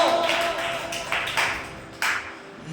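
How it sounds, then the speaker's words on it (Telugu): A church congregation claps in a few sharp, close bursts, with a faint tone lingering underneath. "చప్పట్లు"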